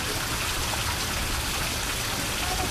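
Steady rain falls in a Malayalam animated cartoon as an even, hissing wash of drops with no breaks, moderately quiet and without voices.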